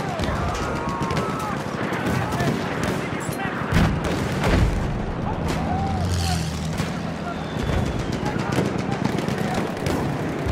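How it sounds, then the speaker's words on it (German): Battlefield 1 battle at St. Quentin Scar with enemy artillery fire: heavy booms and rumbling blasts mixed with steady gunfire, loud and continuous, with voices calling out over the din. "Feindliche Artillerie, da!"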